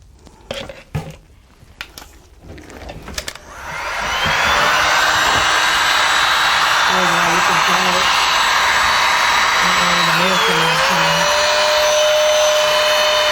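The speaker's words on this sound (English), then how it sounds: "time for a new heat gun" A heat gun blows hot air over epoxy resin for a clock, starting after a few seconds of knocks and handling and then holding a loud, steady whooshing roar with a whine that shifts pitch near the end.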